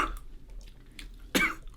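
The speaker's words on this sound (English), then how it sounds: "I'm trying not to cough" A single sharp cough after eating salt rings out clearly after a moment of quiet breathing, close and fairly loud.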